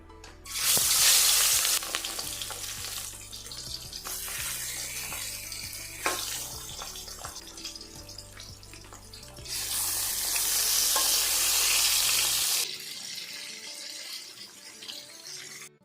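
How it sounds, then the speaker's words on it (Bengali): Pieces of rohu fish sizzle fiercely in hot mustard oil in a kadai, with two loud bursts of crackling frying separated by a calmer bubbling stretch, then a sudden drop to near silence. "কড়ার তেলটা ভালো করে গরম করে নিয়েছি এবার আমি মাছগুলো ভেজে নেবো"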